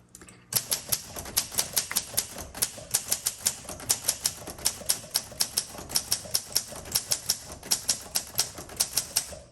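Rapid, crisp keystrokes on a 1953 Olympia SM3 manual typewriter, a near, steady run of sharp clacks at an even rhythm with small pauses, heard alone without any talking.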